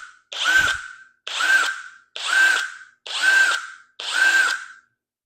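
Budget cordless DeWalt-compatible impact wrench running in reverse: five short, evenly spaced bursts of loud whirring hammering, each about a second long, separated by brief silences.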